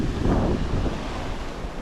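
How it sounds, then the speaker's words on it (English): Ocean waves at Paradise Beach in Gokarna, India: a broad rushing wash of surf mixed with buffeting wind noise, loud and close, swelling at first and then easing into a steady roar. "I think this must be the paradise beach."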